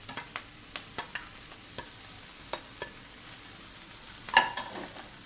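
Pieces of idli being stirred and fried in a pan with onion and chili, a quiet sizzle broken by scattered scraping clicks of the spoon and one louder clatter near the end, with no voices.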